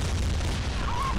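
A deep warship cannon blast and explosion in the naval combat game Modern Warships, a brief low rumbling boom that fills the short moment with no talk.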